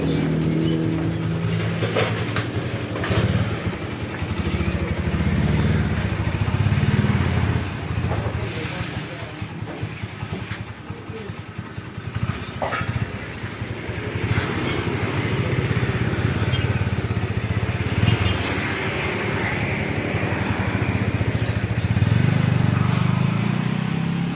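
A motorcycle engine upgraded with wider valves runs steadily on a test ride, a continuous low drone and rev throughout, with people talking over it at times.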